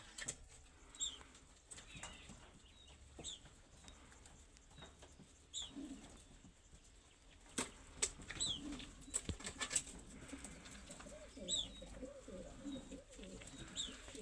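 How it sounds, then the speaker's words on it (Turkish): Pigeons in a home loft with hatchlings, soft cooing and wing flaps mixed with faint thin chirps from a chick, intermittent and quiet against light background noise. "Şu yavru da ne güzel vik vik yapıp duruyor."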